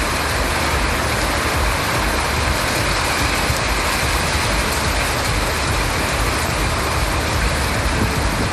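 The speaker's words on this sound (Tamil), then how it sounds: "பல்வேறு பகுதிகளில் கனமழை பெய்தது" Heavy rain pours down in Chennai, Tamil Nadu, a steady, dense roar of water on surfaces that stays loud and unbroken throughout, with no voices.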